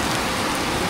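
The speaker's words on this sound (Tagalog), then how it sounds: "Lakas ng ulan." Heavy rain pours down in a dense, loud, continuous hiss, steady and close with no gaps.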